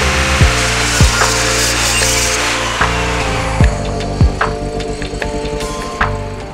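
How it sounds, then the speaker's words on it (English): A saw cuts through wooden boards pushed against a fence for straight miter cuts on a modern minimalist wooden bench, with a steady loud whine and several sharp bursts as the blade enters the wood. "push the boards up against the fence to get as straight and accurate of a cut as possible"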